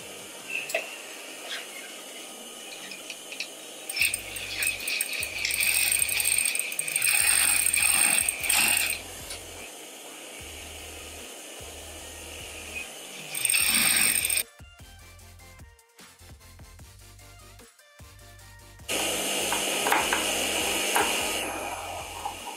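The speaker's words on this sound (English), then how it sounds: "Let me just give it a stitch so that it stays down completely." A sewing machine stitches a reversible bomber jacket, producing rapid mechanical clattering runs that start and stop several times, with quiet pauses and short loud bursts between them.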